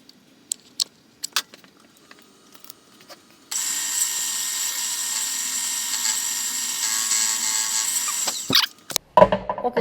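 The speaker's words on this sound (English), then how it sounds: "I'm gonna throw that on the mill, and I'm just gonna cut the little slot so that'll fit through" A milling machine cuts a slot into a steel bolt, a steady high-pitched whine of the cutter that starts abruptly and runs for several seconds, framed by scattered clanks and taps of tools and metal parts before and after.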